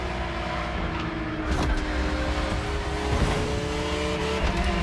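Custom Liberty Walk Lamborghini in The Crew Motorfest racing game, its engine droning loud and continuous with rising revs and shifting pitch over steady race noise.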